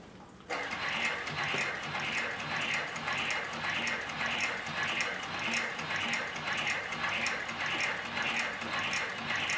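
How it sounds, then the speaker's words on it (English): A single-needle cylinder-arm lockstitch sewing machine with triple feed stitches 10 to 12 ounce leather onto 5 ounce leather, starting abruptly and then running in a steady, fast mechanical chatter close up. "we'll sew this piece of 10 to 12 ounce leather to the piece of 5 ounce."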